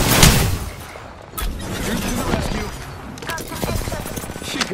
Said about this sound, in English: Shots fired, they're hitting me.